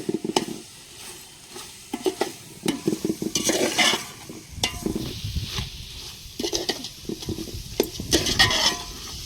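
Mutton curry cooks in a pan on a wood-fired stove, a spoon scraping and stirring against the metal in bursts over a steady sizzle and crackle, close and fairly loud with no talking.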